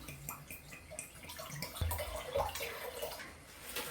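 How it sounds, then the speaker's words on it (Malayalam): Water poured into a cooking pot to cook ada, a short splashy trickle and gurgle with a few light drips, heard up close. "നമുക്ക് ഇതിലേക്ക് വെള്ളം ഒഴിച്ചു കൊടുക്കാം."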